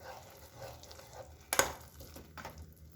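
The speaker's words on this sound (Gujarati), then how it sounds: "અને એને બરાબર મિક્સ કરી લઈશું." A spoon mixes mashed eggplant bharta in a pan, making quiet, soft stirring sounds with one distinct metallic scrape and clink near the middle over a faint sizzle.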